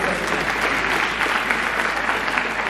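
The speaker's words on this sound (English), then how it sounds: "I would like us to give a round of applause" Loud, dense audience applause fills a World AIDS Day gathering, a continuous wash of many hands clapping close by without pause.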